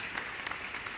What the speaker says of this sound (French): Applaudissements pour Matisse.